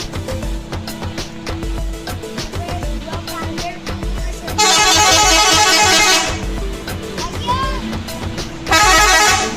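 A Trans Wijaya bus sounds its telolet musical air horn in two loud, melodic bursts, one long and one short, over a bustle of traffic and crowd noise.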